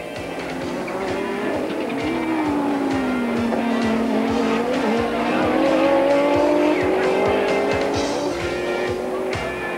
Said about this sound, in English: an awful lot of horsepower was unleashed as the cars streamed into the first corner